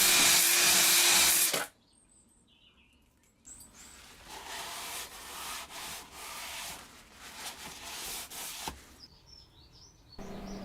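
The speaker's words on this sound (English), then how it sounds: "put the hone into the cylinder and just keep it stationary in one place, because that would just not work" An engine cylinder from a restored 43-year-old British garden tractor being honed, the hone moved quickly up and down to cut a crosshatch: a gritty abrasive rubbing, loud at first, then softer rasping strokes after a pause, with no speech.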